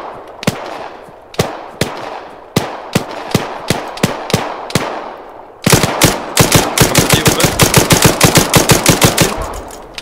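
Gunfire in the video game Arma 3: spaced single shots for about five seconds, then a loud, rapid automatic burst of evenly repeated cracks, with no talk.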